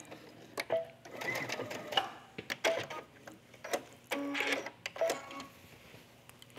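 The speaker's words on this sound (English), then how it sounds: "I'm stitching all the way down to the corner" Sewing machine stitching a front placket down to the corner, a close, steady run of rapid needle chatter broken into several short bursts with brief pauses between them.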